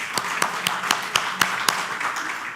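Applause from a conference audience, heard as a series of distinct, evenly spaced claps ringing out near and clear over a quiet room, with faint background murmur.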